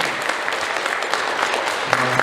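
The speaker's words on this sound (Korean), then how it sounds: "박수로 환영해 주세요." A lecture audience claps steadily to welcome a professor, a dense wash of applause that holds even throughout.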